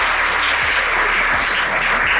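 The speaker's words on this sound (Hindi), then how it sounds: "तालियां बजाओ पहले इस बच्ची के लिए।" An audience of schoolchildren applauds a girl: steady, dense clapping, loud and close, fills the whole stretch without talk.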